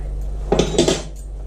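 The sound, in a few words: hand-mixing cold cod croquette mixture in a bowl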